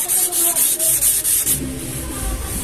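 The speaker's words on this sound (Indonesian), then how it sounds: "Jadi biar teman-teman nggak bosan menunggu saat proses pengamplasan ini" Steady back-and-forth sanding strokes on a Supra X125 motorcycle body part, rhythmic and close, then a rougher, lower rubbing continues without pause.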